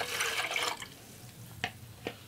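One cup of water is poured into a kettle for a boiling test. A brief splashing pour comes first, then two soft drips or clinks follow in the quiet, all close and fairly faint.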